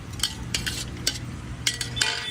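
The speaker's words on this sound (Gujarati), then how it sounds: "હવે એને પ્રોપર તરીકે મિક્સ કરી લેવાશું." A spoon scrapes and stirs chopped vegetables and tomatoes in a pan for moong pulao, a few sharp metallic clinks over a steady low sizzle-like background, close and fairly loud with no talk.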